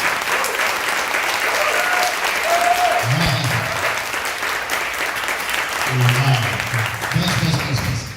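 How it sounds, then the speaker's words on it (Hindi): A church congregation claps for the Lord in a steady, dense wash of applause that fills the room and holds loud throughout, with a voice briefly heard over it. "एक अच्छी ताली सिर्फ प्रभु के लिए, थोड़ा जोर से।"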